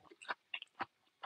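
Crunchy food is chewed close to the mic during an Indonesian live-streamed eating session, with four or five distinct crisp bites spaced irregularly over about a second and no talking.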